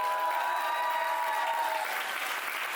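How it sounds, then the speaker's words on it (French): Audience applause on a dating show set, dense steady clapping from a nearby crowd, loud and continuous for a few seconds before easing slightly, with no talk over it. "Est-ce qu'on peut l'applaudir?"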